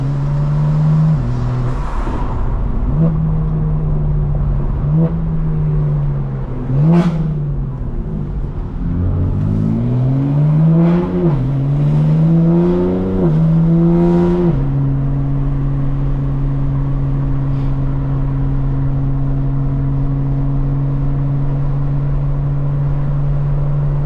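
A 2025 BMW M4 Competition's engine and exhaust rev repeatedly, rising and falling through gear changes with sharp blips, then settle into a steady loud drone at cruising speed; no talking.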